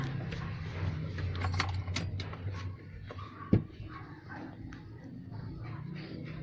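Keys jangle softly as the ignition key of a Suzuki Multicab with an F6A engine is turned off, followed by one sharp click and a faint background hum.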